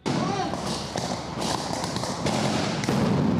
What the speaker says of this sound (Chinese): 手榴弹爆炸，增加真实感。